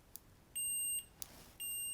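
Small multimeter on continuity test giving two steady high-pitched electronic beeps, each about half a second long, separated by a short gap with a faint click, fairly close and clean over quiet room tone.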